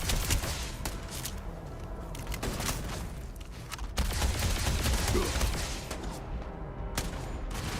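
Dense, continuous gunfire from a shooter video game, a steady fusillade of overlapping shots across the whole stretch with a louder burst midway.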